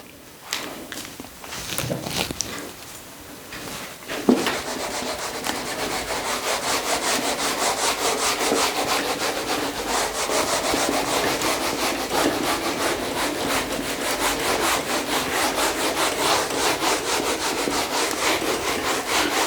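A board being wiped clean of writing in a classroom, a long continuous dry rubbing and scraping that starts after a few seconds of quieter handling noise and stays loud and steady.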